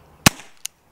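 A single sharp shot from a Walther CP99 air pistol, one loud close crack followed by a short, fainter mechanical click, with no talk.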